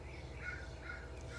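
A bird caws in a children's story, giving a couple of short, hoarse crow-like calls over a low steady hum.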